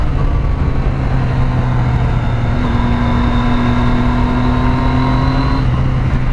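A sport motorcycle fitted with a factory quick shifter accelerates steadily during a ride, its engine note loud and close with a rising tonal drone and continuous wind and road roar, no voices.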